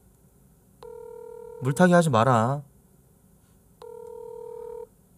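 Two steady telephone dial tones, each lasting about a second, sound before and after a short burst of speech, as a call is placed on a phone.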